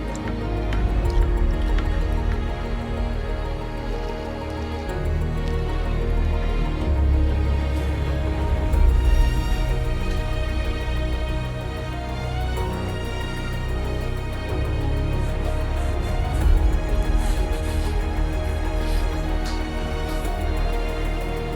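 A hot forged Persian fighter blade plunged into quenching liquid, giving a steady, loud sizzling hiss and bubbling that holds for about twenty seconds with no talk.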